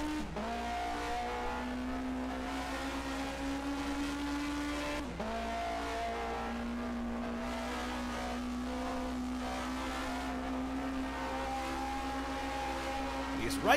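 1980 DRM Division 2 race cars on the circuit through a chicane, a loud continuous engine drone with rising and falling pitch as cars shift and brake, while a commentator talks over it.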